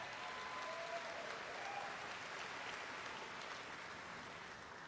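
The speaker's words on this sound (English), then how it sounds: "You can clap for them." An audience at a college commencement ceremony applauds in a dense, continuous wash of clapping that holds steady throughout and fades slightly at the end.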